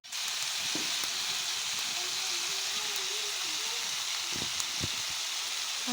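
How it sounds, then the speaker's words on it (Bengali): Poa fish curry sizzles steadily in a hot pan while being sautéed, a loud continuous frying hiss with faint scraping stirs underneath and no talk. "তারপরে অনেকক্ষণ কষিয়ে নেব।"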